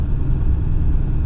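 A 1994 Ford F-350 pickup with a 7.3 engine rumbles steadily from the inside while driving, with a deep, constant low drone and no talk.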